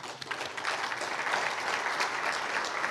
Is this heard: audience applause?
yes